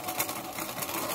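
Sewing machine back stitching at the turning flap while sewing a stuffed toy's leg and foot, a steady continuous mechanical whir, close and alone.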